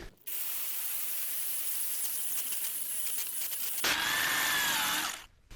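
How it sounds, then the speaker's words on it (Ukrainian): Metabo UHEV 2860-2 rotary hammer dry diamond core drilling at second speed with a worn core bit into damp concrete and granite, a loud steady grinding hiss that shifts to a harsher, brighter whine near the end before stopping. "Спосіб алмазний, друга швидкість, убита коронка, сверлимо на суху."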